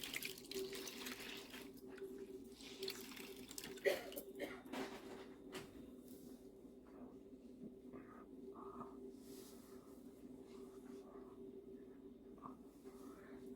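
A faucet runs steadily at low volume as a towel is soaked under the tap during a natural skincare routine, a soft continuous stream with faint splashes and no talking.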